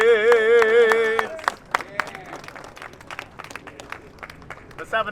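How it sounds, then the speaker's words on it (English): An outdoor crowd at a street-naming ceremony in Paterson breaks into applause as a sung national anthem ends, the clapping scattered and moderate, with sharp individual claps and some murmuring after the singing fades. "Let's have another round of applause for Mr. Leon Moses."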